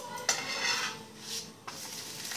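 Paratha made with leftover dal flipped on a pan, a couple of soft metallic clinks and scrapes over a faint background hiss, close and quiet.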